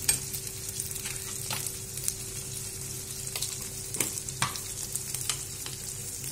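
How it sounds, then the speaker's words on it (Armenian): Vegetables and red beans stirred and frying together in a hot pan give a steady close sizzle throughout, with occasional soft scrapes and clicks of the stirring utensil. "Խառնում ենք, որ երկուսն իրար հետ տապակվի"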